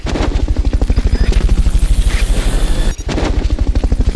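A rescue helicopter from the Metal Gear Solid Peace Walker video game gives a loud, fast, steady rotor thumping, with a brief dip near the three-second mark before the beat resumes.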